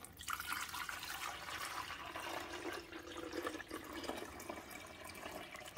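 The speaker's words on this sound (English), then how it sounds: "We're going to pour it back here where the water goes." Distilled white vinegar is poured into the water reservoir of a Walmart Mainstays 12-cup coffee maker, a continuous close-up liquid splash and gurgle lasting several seconds with no voices.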